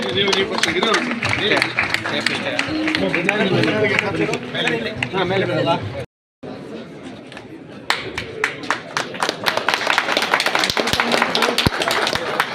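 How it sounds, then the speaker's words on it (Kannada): Loud, sustained applause from a crowd honoring the minister and MLA at a synthetic turf hockey ground inauguration, rising to dense clapping with chatter after a brief gap. "ಜೋರಾಗಿ ಚಪ್ಪಾಳೆ ಇರಲಿ."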